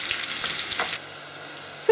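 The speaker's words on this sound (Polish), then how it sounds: "Frytki smażymy tak około 15 minut." French fries frying in hot fat, a soft crackling sizzle that fades after the first second, followed by a quiet low hum and a short tone at the end.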